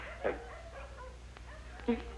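A few dogs yip and whimper in short excited bursts, two sharper yelps standing out, close but quiet beneath a low background hum.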